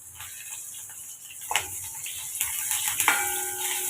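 Sliced onions, dried red chillies and curry leaves sauté with cumin and mustard seeds in a pan, a soft, quiet sizzle broken by a few light stirring scrapes and clinks.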